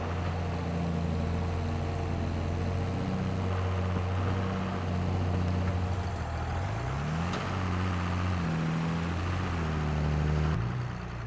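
A tractor top mowing a field in a farming simulation game: a continuous loud engine drone with humming tones that rise and fall as the revs change.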